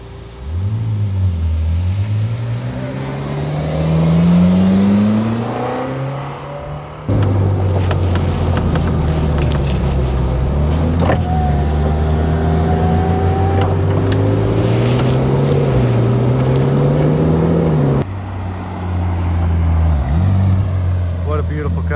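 A Ferrari 458 Spider engine rumbles and revs up and down steadily throughout, with voices talking over the motor.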